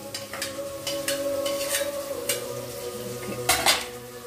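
Tomato pieces tumble into a pan of cabbage chutney, with clattering pan and utensil knocks and scraping over a low steady sizzle, ending in a louder clatter near the close.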